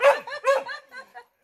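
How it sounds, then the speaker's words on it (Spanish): A small dog yaps in a quick run of about half a dozen bright barks over roughly a second, close by and fairly loud, outdoors on a country outing. "Ay, qué lindo perrito."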